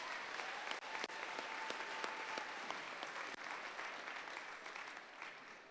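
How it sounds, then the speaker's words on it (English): A large crowd at a robotics competition alliance selection gives sustained applause, a dense wash of clapping that holds steady throughout with a few sharper individual claps standing out. "I think you should all give yourselves a round of applause."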